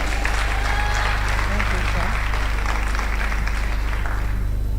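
Clapping from the audience at a food science and technology professional induction ceremony, a continuous crowd patter sitting under a strong steady low hum, fairly loud and unbroken throughout.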